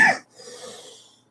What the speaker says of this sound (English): Oh, sorry about all the coughing.